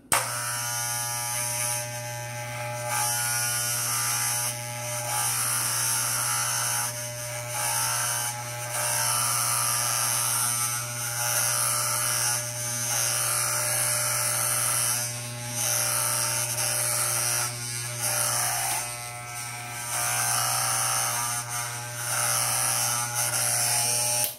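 An electric beard trimmer fitted with a number eight guard runs continuously with a steady close buzz, its pitch and loudness dipping repeatedly as it passes over the beard.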